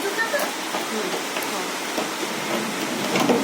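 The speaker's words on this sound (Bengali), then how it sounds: "বাইরে পড়ছে মুসলধারে বৃষ্টি" Heavy rain pours steadily, a dense hiss of drops with scattered louder patters, fairly close and continuous.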